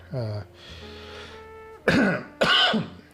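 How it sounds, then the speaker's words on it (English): A throat clears with a low rasp, followed after a pause by two sharp, harsh coughs close to the microphone. "Sorry for the coughing"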